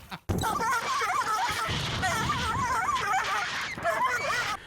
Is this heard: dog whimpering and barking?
yes